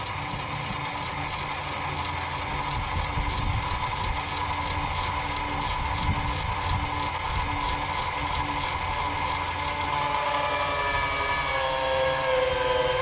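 Lippert Ground Control auto-leveling jacks on an RV run with a steady mechanical hum, grinding and faint ratcheting, loud and continuous throughout with no pauses.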